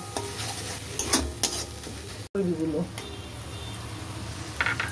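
Ghugni with chilli flakes being sautéed in a pan: close sizzling with clinks and scrapes of a spoon stirring, a brief break midway, then continued frying.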